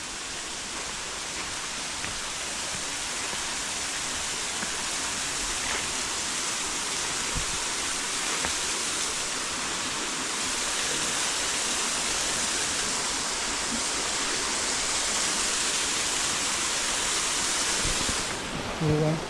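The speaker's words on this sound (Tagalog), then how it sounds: "So yan yung waterfalls." The Goa Raja waterfall in eastern Bali gives a steady, enveloping roar of rushing water that holds unbroken at close range throughout.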